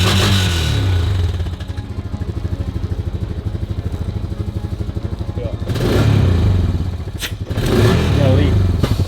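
A Honda Rancher four wheeler's engine runs loud and close with a steady pulsing chug, surging in revs twice toward the end, with clattering mixed in.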